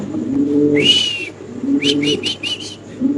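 Lahori pigeons coo close by, with a drawn-out call followed by a quick series of short coos, over a low murmur of nearby birds.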